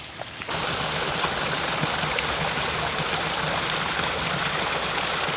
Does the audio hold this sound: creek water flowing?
yes